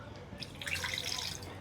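Water splashes and drips as chicken pieces are rinsed in a kitchen, a busy wet trickle swelling in the middle over faint background hum.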